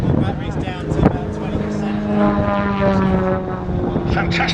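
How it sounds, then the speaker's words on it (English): An Extra aerobatic propeller plane, battery-powered and pulling close to 10G through an outside loop near Old Warden, drones steadily with a harmonic whine that rises and falls in pitch as it passes, with a voice faintly underneath. "that's what this aeroplane flies like"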